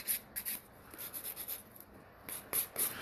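A nail file rubs quickly back and forth across acrylic nails during a reflective acrylic mix manicure, making short, dry, scratchy strokes in an irregular rhythm with brief pauses.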